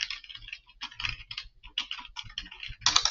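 Fingers tapping out text on a computer keyboard, irregular bursts of quick close clicks with brief pauses between runs, ending in a louder flurry of keystrokes, no talking.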